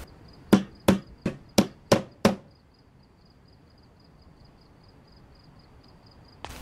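In the Project Zomboid video game, a crafting hammer strikes six times in a quick, even sequence of sharp, loud knocks, followed by a few seconds of faint insect chirping.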